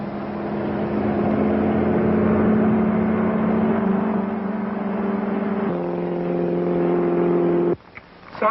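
A 1930s car engine hums steadily and close at a constant pitch, shifting briefly as it pulls away, then cuts off abruptly near the end with a short clunk.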